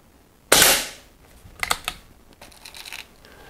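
An Air Arms S400 ambidextrous air rifle in brown fires one crisp, close, snappy shot, followed by a few lighter mechanical clicks and rattles.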